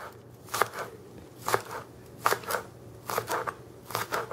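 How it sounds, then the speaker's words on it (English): A knife chops two scallions into thin circles on a board, with about half a dozen crisp, separate cuts in an uneven rhythm, close by and with no talk. "You need 2 scallions chopped into thin circles."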